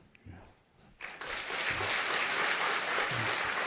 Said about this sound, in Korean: 우리가 인사하실 때에 크게 박수하고 하겠습니다.